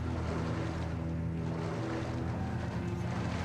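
Water from the River of Fate in the Metro: Last Light video game swells and rushes in a steady wash with a low drone underneath. It runs throughout at moderate level, and no one speaks.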